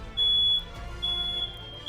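A loud, steady electronic alarm tone from the video game Ark Survival Ascended sounds in two long stretches with a short break between them, over low game rumble.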